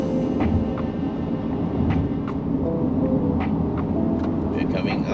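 A truck overtakes a car on the highway, passing alongside as a steady, fairly loud road and engine roar that fills the whole stretch, with brief swells of passing noise.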